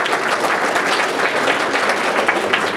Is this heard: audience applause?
yes